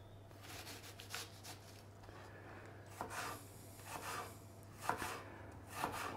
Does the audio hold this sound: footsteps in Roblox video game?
no